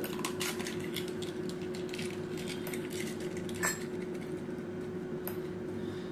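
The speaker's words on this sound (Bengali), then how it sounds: "বাটিতে আমি ডিমটা ফেটিয়ে দিচ্ছি।" A fork or whisk beats an egg in a bowl with quick, rapid clinking taps, close by over a steady background hum.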